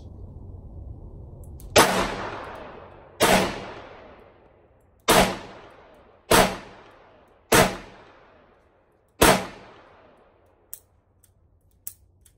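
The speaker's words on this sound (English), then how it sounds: "Alright, so that was me firing a gun with the grips on it." Six loud, close handgun shots firing 240 grain bullets, the gun fitted with Hogue Tamer recoil-absorbing grips. The shots come at uneven intervals of one to two seconds, each with a ringing decay, followed by a couple of faint clicks.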